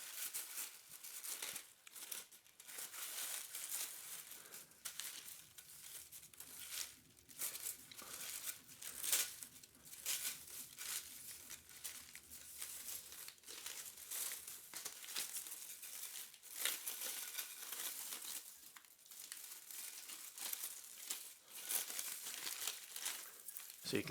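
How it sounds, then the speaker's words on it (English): Protective packaging paper is pulled and crinkled off a Denby Halo extra large plate, a continuous close rustling and crumpling with small tearing sounds throughout. "let's go ahead and remove the protective paper packaging from the plate"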